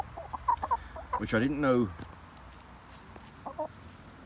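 Backyard chickens in a fenced roaming area under an apple tree give short, scattered clucks, with a louder drawn-out call in the middle. A person speaks briefly nearby.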